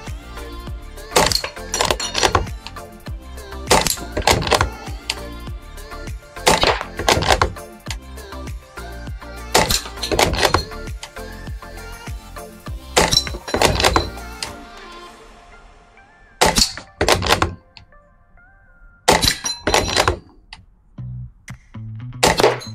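Air rifle pellets striking a triple Texas Star steel target, a series of sharp, close metallic smacks spaced a second or two apart, each followed by a short ring and clatter as the plates swing, with a pause between volleys.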